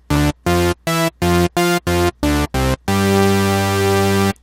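A loud, buzzy trance lead synth patch built in Native Instruments Massive stabs out eight rhythmic chopped notes, then holds one thick, full sustained tone with no talking.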